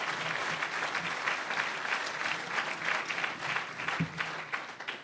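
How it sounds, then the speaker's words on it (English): Applause from an audience at an Illinois Republican Party event, a dense, steady wash of many clapping hands filling the room for the full stretch, with a faint voice briefly underneath. "Let's give him a big round of applause"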